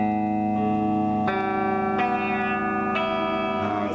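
An Ammoon Stratocaster-style electric guitar with a 5-position pickup switch, tones at minimum and volumes near the middle, sounds through effects: sustained distorted chords with chorus and reverb, restruck roughly every second or so, loud and steady with no talk.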